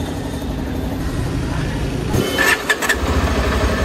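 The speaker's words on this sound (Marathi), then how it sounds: "गाडी आपण आता चालू केलेली आहे, आपला काळा घोडा, आणि आम्ही आता निघतोय बुरुम बुरुम करायला" A motorbike engine idles and then revs up as the bike pulls away, a loud, close rumble that rises in a few throttle bursts near the end, with no one speaking.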